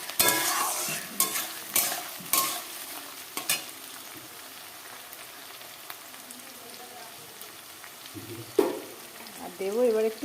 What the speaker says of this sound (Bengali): এই দেখো পেঁয়াজ ভাজা হয়ে গিয়েছে দিয়েছি সামান্য একটু চিনি আর টমেটো